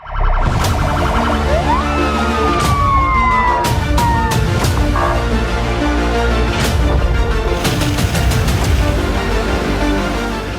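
Sirens wail during a military fire-rescue drill at an army unit, rising and falling tones mixed with sharp clanks and bangs amid loud, busy outdoor commotion.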